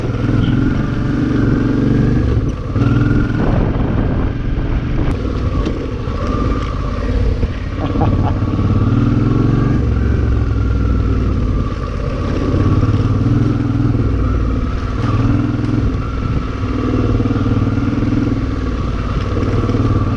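A Suzuki V-Strom motorcycle rides the sandy Tribag Mine Road, its engine droning steadily and close for the whole stretch, with clatter and rattles from the rough surface mixed in.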